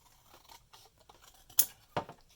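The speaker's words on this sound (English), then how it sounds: "I'm going to cut this in half." Scissors snip through paper for a notebook cover, giving two sharp, close cuts after some faint handling rustles in a quiet room.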